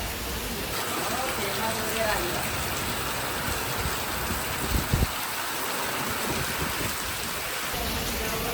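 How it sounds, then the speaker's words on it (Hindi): Light rain falling steadily outdoors beside a parked Volkswagen Polo, a constant soft patter across the whole stretch, broken by a couple of brief nearby knocks toward the middle. "अनफॉर्चुनेटली थोड़ी सी बारिश हो गई है"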